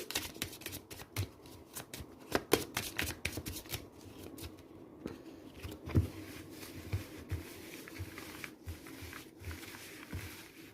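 A tarot deck is shuffled at length in a quiet room, with soft, steady riffling and light slaps that repeat throughout at a modest, close-up level, and no voices.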